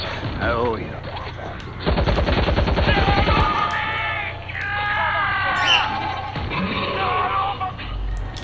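Rapid gunfire bursts in the zombie shooter World War Z, a loud rattling volley partly under shouting voices and game chatter, with a brief squawk-like cry near the end.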